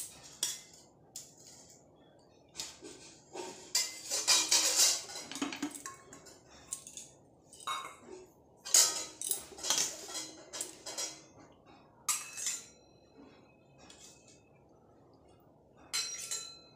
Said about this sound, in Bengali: তার আগে কড়াইটাকে পরিষ্কার করে নিই